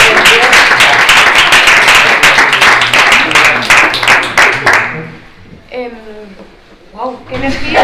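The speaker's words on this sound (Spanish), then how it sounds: "Un aplauso, sí, un aplauso." Audience at a library comics event applauds loudly with dense clapping for about five seconds, then it fades out and a voice speaks over the quieter room.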